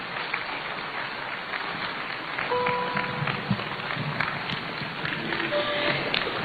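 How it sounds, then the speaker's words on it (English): Audience applause after a commemorative lecture honoring President Atta Mills, a steady, moderately loud crowd clapping that continues throughout, with a few brief tones and taps over it. "A round of applause"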